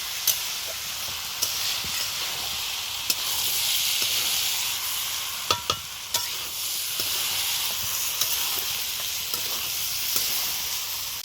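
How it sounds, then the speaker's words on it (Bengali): Rice fries with spices in a pan for sweet basanti pulao, a continuous moderate sizzle with sharp clinks and scrapes of a spoon stirring at irregular intervals, no talk. "এবার চালের সাথে সব কিছুকে একটু ভেজে নেব"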